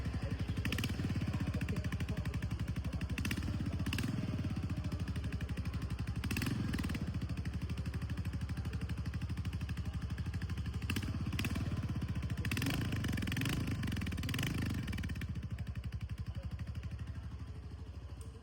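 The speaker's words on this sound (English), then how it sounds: "I'm just going to fire this motorcycle up" A Royal Enfield Goan Classic 350 motorcycle engine idles close by with a steady throbbing rumble, occasionally revving in brief swells before settling back.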